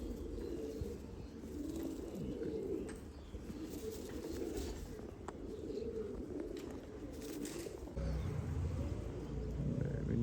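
An old pigeon, a blue-barred loft bird, coos repeatedly in low rolling phrases close by, with more cooing from other pigeons layered around it in a steady, continuous chorus.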